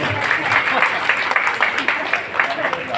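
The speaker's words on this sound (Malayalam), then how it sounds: "നമ്മൾ എല്ലാവരും നിറഞ്ഞ കയ്യടിയോടുകൂടി തന്നെ നമുക്ക് ഈ വേദിയിൽ അവരെ ആദരിക്കാം." Audience clapping at an honouring ceremony on a festival stage, a dense wash of applause filling the short moment while a voice speaks over it.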